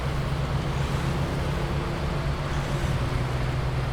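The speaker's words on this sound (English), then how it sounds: "I'm able to tow it across the muddy pass." A truck engine in the video game SnowRunner towing a pickup across a muddy pass, a steady, loud low engine drone with a constant rumble throughout and no pauses.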